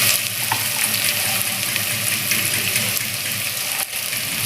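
Garlic frying in hot oil in a home kitchen, a loud, steady close sizzle with occasional stirring scrapes and a brief dip near the end.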